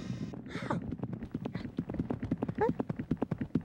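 Steady clip-clopping of horse hooves trots along in a quick, even rhythm, with a brief whinny-like squeal and a voice mixed in.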